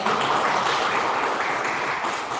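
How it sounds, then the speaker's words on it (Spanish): An audience at a history lecture applauds Dr. Michael Campbell, an academy member, as he is introduced: a sustained, even wash of many hands clapping, filling the room without pause. "Un aplauso para Michael."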